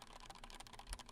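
Someone types on a computer keyboard in a fast, continuous patter of soft, close clicks, with one heavier thump near the end.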